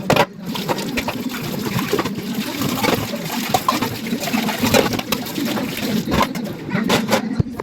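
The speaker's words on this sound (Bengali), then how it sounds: "এখন বাসন ধুবো।" Tap water running steadily while dishes are washed in a home kitchen at night, a continuous close splashing hiss with occasional clinks and knocks of utensils and plates.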